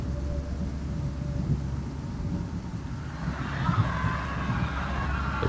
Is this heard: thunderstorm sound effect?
yes